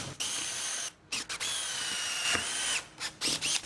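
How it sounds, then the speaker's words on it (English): Hand-held electric drill boring hinge holes into a plywood door panel with a blunt bit, running in several close bursts of high whine separated by short pauses, with the motor pitch dipping under load. "hinge holes by hand with a hand drill"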